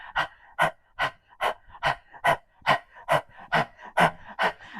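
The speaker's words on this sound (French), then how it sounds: "vous allez ouvrir la bouche très grand et tirer la langue. Et faire la respiration par la bouche" Kundalini yoga panting breath through a wide-open mouth with the tongue out: about a dozen forceful, evenly spaced pants in a steady rhythm, close and clear, with no talking.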